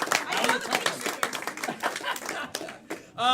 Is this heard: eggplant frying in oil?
no